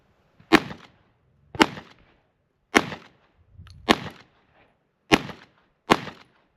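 Six sharp handgun shots fired at uneven intervals of about a second, each a loud crack with a short decaying tail and quiet gaps between them, no talk.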